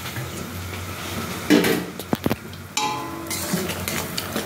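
Okra goes into boiling vegetarian gravy in a cooking pot, with sharp metal clinks and clatters of a utensil against the pot over a steady bubbling, sizzling background.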